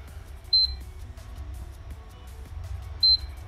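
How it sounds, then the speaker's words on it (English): Two short, high electronic beeps from a PlayStation 5 as its power button is held, about two and a half seconds apart over a low background hum. "press and hold, you hear 2 beep"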